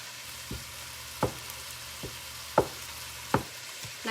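Egg roll in a bowl filling fries in a pot while a utensil breaks it up, producing a low steady sizzle punctuated by about six sharp scraping knocks at an uneven pace.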